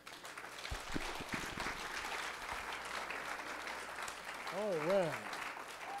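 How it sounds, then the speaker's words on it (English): Congregation clapping hands during an evening church service, a steady dense wash of applause filling the room, with someone briefly speaking near the end. "Give the Lord a hand clap."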